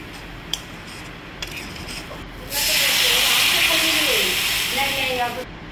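Water poured into a hot pan of frying prawn masala sets off a sudden loud, steady steam hiss that lasts a few seconds before cutting off, with a voice talking briefly underneath.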